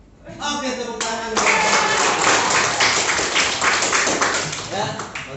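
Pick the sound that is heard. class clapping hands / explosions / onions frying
class clapping hands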